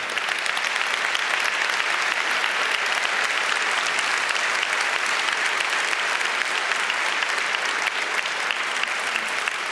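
Conference audience applauding at a keynote during the 29C3 hacker congress, a dense, steady wash of many hands clapping that holds loud and unbroken for the whole stretch.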